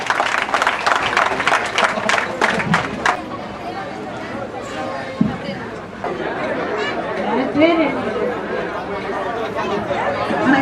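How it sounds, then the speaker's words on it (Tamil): A school Annual Day audience claps as parents are honoured on stage: a burst of dense applause for about three seconds, then crowd chatter and murmuring fill the hall. "கைத்தட்டி உற்சாகப்படுத்துமாறு பொதுமக்களை கேட்டுக்கொள்கிறோம்."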